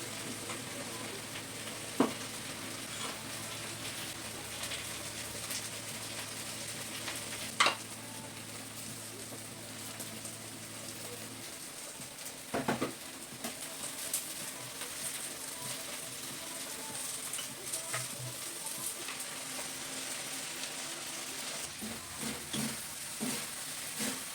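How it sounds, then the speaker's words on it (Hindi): Okra (bhindi) fries in a pan at home, a soft continuous sizzle under scattered clicks and clatter of utensils, with a few sharp knocks standing out over the long stretch. "भिंडी फ्राई करने रखूँगी"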